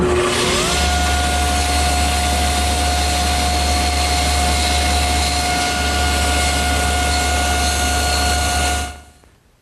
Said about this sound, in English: The easiest way to do that is over here at the table saw, where I'm going to hold it against my miter gauge and just spin it slowly into the